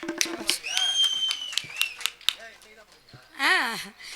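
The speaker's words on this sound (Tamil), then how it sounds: "சிறப்பு சிறப்பு கைதட்டுங்கண்ணே அவருக்கு" A live audience claps for a performer at a Tamil stage comedy show, a brief burst of hand claps that rises and fades amid loud talking and music.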